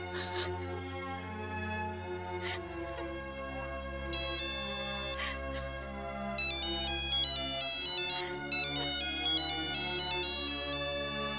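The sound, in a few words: phone ringtone ringing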